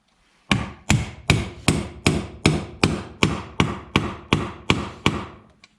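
A bearing is hammered into an ATV engine crankcase: about a dozen sharp, ringing metal strikes land in a steady, even rhythm, close and loud, with no talk.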